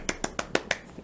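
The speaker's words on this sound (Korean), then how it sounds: "박수 쳐드립니다." A lecturer at a humor talk claps his hands five times in a quick, even rhythm, followed by a softer sixth clap. The claps are sharp, close and dry, with no talking over them.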